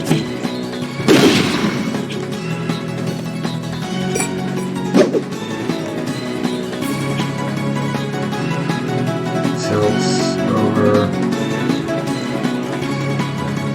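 A tower is smashed apart in the Roblox game Super Doomspire, with a sharp loud crash followed by scattered thuds and impacts over a busy background of game sounds and music, no talking.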